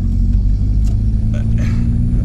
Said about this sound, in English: the engine doesn't sound happy. It's there's a lumpiness there to it